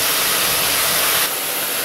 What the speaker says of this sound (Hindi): जब तक मेरे कटहल फ्राई हो रहे हैं